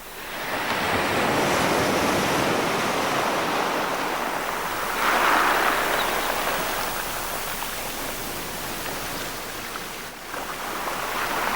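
Sea waves wash steadily onto the shore in a broad, continuous roar that swells near the middle, with wind mixed in and no voices.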